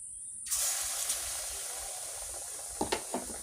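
Potato chops drop into hot oil and set off a sudden loud sizzling hiss that carries on steadily at close range, with a few soft pops and clatters near the end and no talking.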